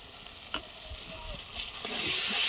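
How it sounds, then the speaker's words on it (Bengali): Tomato, turmeric and Kashmiri chili powder stirred and frying in a pan while cooking prawns, a steady close sizzle with scraping stir strokes that grows louder toward the end. "দিয়ে নাড়াতে থাকবো।"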